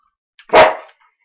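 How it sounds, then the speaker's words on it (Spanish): A single sharp, close dog bark breaks an otherwise silent moment, loud and brief, fading quickly. "Mi perrito es muy insistente."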